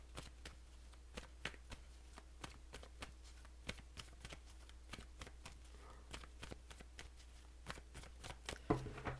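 Tarot cards being shuffled by hand, a steady run of soft, crisp riffling snaps and flicks close up, with a faint low hum underneath and no talking.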